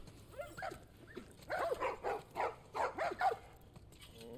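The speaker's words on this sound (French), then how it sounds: "J'entends un chien." Dog barking in The Last of Us Part 1 game, a run of about six loud rhythmic barks close by after quieter sounds, with no talk over them.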